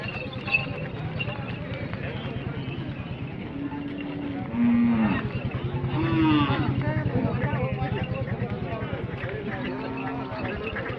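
Bulls low and moo a few times amid a busy, crowded cattle market at Lasur Station, with people talking continuously around them.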